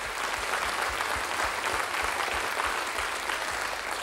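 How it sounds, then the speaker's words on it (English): Concert audience applauding at a show, a dense, steady wash of many hands clapping loudly and evenly throughout, with a rhythmic low thump beneath, no voices over it. "Give yourselves a big round of applause."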